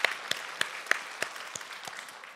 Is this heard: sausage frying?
no